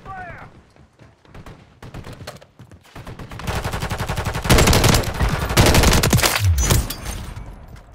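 Gunfire in a Call of Duty match: scattered single shots at first, then dense, loud rapid automatic fire building up in the second half, close and intense.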